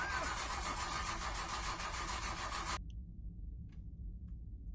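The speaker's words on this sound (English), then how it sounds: "Guys firing up the truck and leaving?" A truck engine fires up and runs with a dense mechanical roar, then cuts abruptly to near silence with a few faint clicks after.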